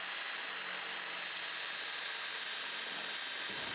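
A drill bores a hole for the door latch receiver on a pedal car, a steady high-pitched whir running continuously with a slight change in tone near the end.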